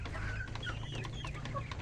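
Free-range village chickens cluck in short, scattered calls over a low steady hum, the birds sounding close but fairly quiet.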